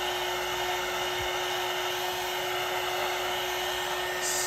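A hair dryer blows steadily on painted paper from underneath, a loud, constant whirring hiss with a steady motor whine and no break.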